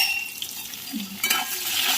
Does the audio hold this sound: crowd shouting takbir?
no